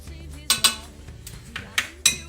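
A spoon stirs chocolate milk in a pot, making a few distinct metallic clinks and scrapes against the pot at irregular intervals, close and clear with no talk.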